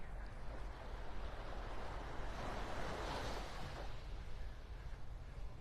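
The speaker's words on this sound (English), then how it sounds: "Right here on the beach with Rob in the morning." Ocean waves wash onto a morning beach in North Naples, Florida, a steady broad roar of surf with some wind buffeting, moderately distant and continuous, with no voices.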